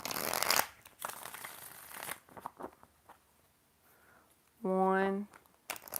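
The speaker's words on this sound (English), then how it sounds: "4 shuffles." Tarot cards being shuffled by hand: riffling, papery bursts between stretches of talk, with a brief tonal beep near the end.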